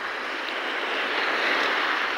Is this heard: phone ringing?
no